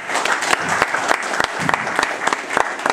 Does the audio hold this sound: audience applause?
yes